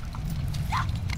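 Horse hooves clip-clopping in a duel/siege mode of a video game, several quick hoofbeats with a short whinny-like call in the middle, set over a steady low background rumble.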